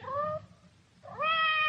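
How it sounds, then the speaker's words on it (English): A cat meowing outside a door, two distinct drawn-out meows, the second longer and higher-pitched, fairly clear against a quiet background. "It sounded like Madame's cat, Francois."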